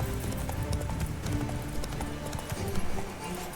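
Horse hooves clip-clop steadily at close range while riding in The Witcher 3, with a rapid continuous gallop rhythm over a busy game soundscape; no talk is heard.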